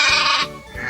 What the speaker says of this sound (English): Yes, it's a sheep.